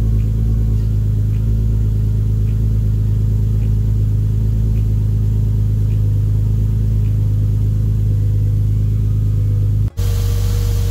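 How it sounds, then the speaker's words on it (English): A turbocharged 1.5JZ engine in a Toyota Soarer idles steadily with a loud, even low rumble and faint periodic ticks, then a brief blip near the end. "as the turbo's running in, it just sits quite happily and idles around now"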